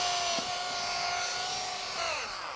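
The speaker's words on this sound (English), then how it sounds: "you just take a drill. Uh-huh. And you just got to drill a hole through here" A power drill whines steadily as it bores a hole through a concrete stepping stone, a thin sustained tone that dips in pitch near the end, fairly quiet with no talk.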